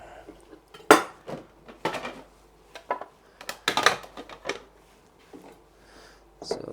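A knife cuts food into little strips on a board in irregular close taps and knocks, with a few sharper clinks of the blade among the softer chops.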